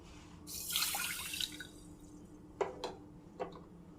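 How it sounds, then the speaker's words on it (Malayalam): Water splashes and runs into a pressure cooker for about a second, followed by a few sharp drips and clinks, close by with no talking. "ഇനി ഇതിലേക്ക് ആവശ്യത്തിന് വെള്ളം ഒഴിച്ചു കൊടുക്കണം"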